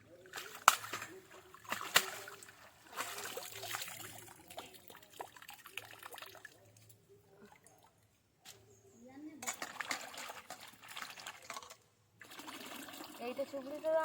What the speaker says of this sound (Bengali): এবার কলের জলে ধুয়ে নে